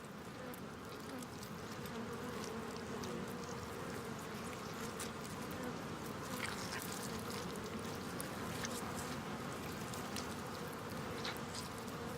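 Dense, continuous buzzing of many honey bees, close and steady, a low droning hum with no talking.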